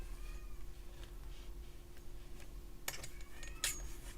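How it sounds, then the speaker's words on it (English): Cats meow a few times, two short bright cries standing out near the end over a steady low background hum, with some faint clicks earlier. "my cats are unhappy about something"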